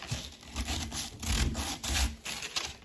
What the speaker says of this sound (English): sand it off.